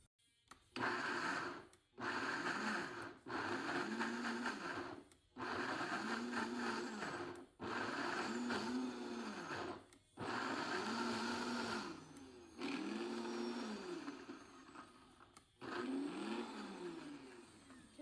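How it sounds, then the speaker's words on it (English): A kitchen blender grinds Haitian seasoning with cloves and oil in loud, close bursts of whirring motor, about seven pulses stopping and restarting every couple of seconds, the pitch shifting as the thick mixture loosens, with no talking. "we're gonna add some more oil to it to help it out. And there we go, let's blend."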